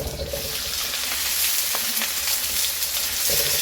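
Garlic and tomatoes sizzle steadily in a hot pan for chicken afritada, a continuous close frying hiss with brief stirring clatter.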